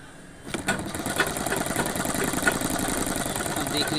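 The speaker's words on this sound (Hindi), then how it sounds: "मोड़ने के बाद फिर सिलते हैं।" A sewing machine runs steadily, stitching the side pocket of a pair of pants, with a continuous mechanical whir that starts abruptly and holds a busy, close hum throughout.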